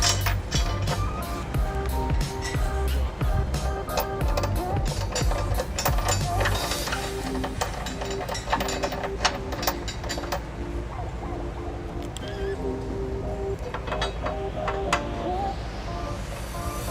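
A ratchet tightening a trailer hitch bolt into a weld nut on a 2011 Honda Odyssey, rapid repeated clicking in bursts, close and clear, with a few pauses and clunks of the tool.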